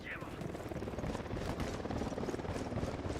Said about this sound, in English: We got a chopper.